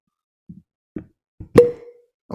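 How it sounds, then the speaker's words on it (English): Cork popping from a Stumpy's whiskey bottle: a few soft handling knocks, then one loud, close, hollow pop with a brief ringing tail. "Classic Stumpy's cork pop."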